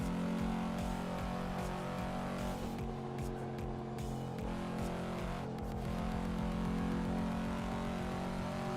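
A 2005 Volvo S60R engine in the racing game Assetto Corsa holds a steady, loud, buzzing drone. Its pitch shifts slightly as the car is driven flat out.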